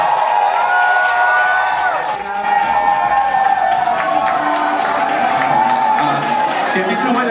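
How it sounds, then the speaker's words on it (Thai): A large crowd at a concert in MBK Center, Bangkok, cheers and shouts continuously, loud and lively, with some clapping mixed in and voices talking under the noise. "เสียงปรบมือต้อนรับ"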